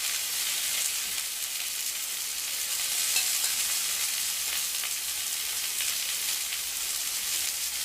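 Kangaroo steak fries in olive oil with a continuous, close, even sizzle and crackle, bright hissing that holds steady without any talking.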